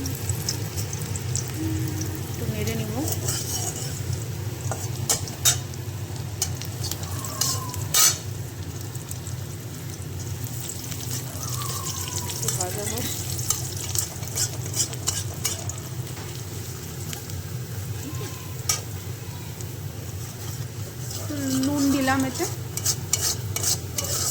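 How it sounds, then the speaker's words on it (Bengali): Dried chilli, bay leaf and black cumin fry in hot oil, giving a continuous low crackling hiss with scattered light clicks of a utensil stirring the pan, close and steady throughout. "শুকনো লঙ্কা দিলাম তেলে তেজপাতা দিলাম তাহলে এটাকে একটু ভাজবো"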